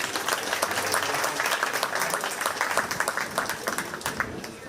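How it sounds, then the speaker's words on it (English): Audience at a county fair 4-H sheep show applauds a class winner, a broad, sustained round of clapping from a crowd that tapers off at the end. "But let's give her a big round of applause."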